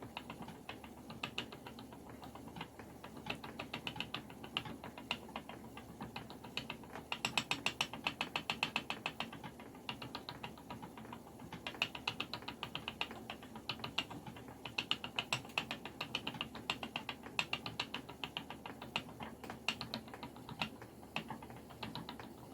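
A pedal-driven spinning wheel plying art silk embroidery thread gives a steady, close rapid clicking and whirring, like a ratchet and gears, running continuously at a quiet level with no voices.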